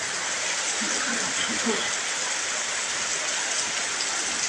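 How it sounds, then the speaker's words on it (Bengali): Steady rain falls in a dense, even patter in Bheramara, Kushtia district, Bangladesh, with a faint voice briefly audible underneath early on. "আল্লাহ তাআলার রহমতের বৃষ্টি"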